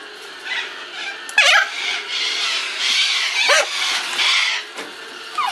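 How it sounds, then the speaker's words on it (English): A flock of corellas screeches in harsh, overlapping calls that rise and fall, loud and continuous in the background, with a few sharper squawks standing out. "there's a flock of corellas that come every day or twice a day, and while Gilly's not so affected, Tippy is"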